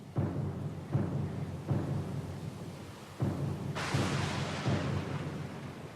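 A stormy sea in the fantasy role-playing game Pillars of Eternity II: Deadfire, with heavy rumbling thunder rolling in repeated waves over constant rain, then a loud hissing downpour surging in toward the end.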